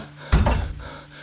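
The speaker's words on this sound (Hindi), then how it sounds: "पत्थर घिसकने की घर्राहट, फिर दरवाजा बंद होने की भारी आवाज आती है" A heavy stone door in a hidden temple gives a short gritty scrape, then lands with a deep, booming thud that quickly fades into a low rumble.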